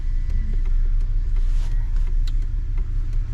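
A car cruising north on Route 13, a steady close engine and road rumble running without a break and with no talk.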